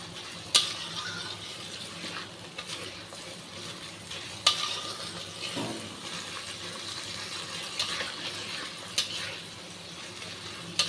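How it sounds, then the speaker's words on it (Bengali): Sour curd being stirred into dhokar dalna, a Bengali vegetarian lentil-cake curry, in a pan over a lowered flame, with a soft continuous sizzle and scraping stirring strokes and a few sharper clinks of the spoon against the pan. "টক দইটাকে খুব ভালো করে মিশিয়ে নেব"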